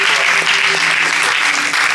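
A church congregation applauds and cheers together in worship, a dense, steady wash of clapping with voices mixed in, loud and sustained throughout.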